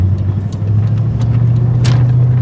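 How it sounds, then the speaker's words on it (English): A 1997 Chevrolet Silverado pickup on the move produces a steady low engine and road rumble, heard from inside the cab, loud and continuous, with a few faint ticks and rattles. "This truck drives really nice."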